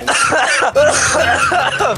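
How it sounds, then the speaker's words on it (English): A person coughs loudly and close up over online voice chat during a Fortnite game. Several harsh bursts run back to back, mixed with voices. "You're coughing."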